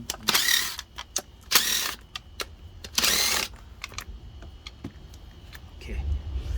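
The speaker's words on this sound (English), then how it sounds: "Now we have to loosen the bolts around the valve cover." A wrench loosens the bolts around the valve cover of an Infiniti Q50 3.7, in several loud, close bursts of ratcheting, then lighter metallic clicks and handling noise.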